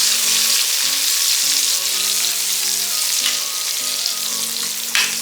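Green chilies sizzle and fry steadily in hot oil with garlic in a pan, a continuous loud crackle with a faint scrape of stirring near the end.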